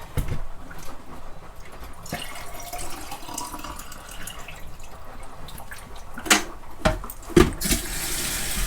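Tap water running into a sink while packing for a holiday, a steady close stream with a few brighter splashes and drips near the end, no talk over it.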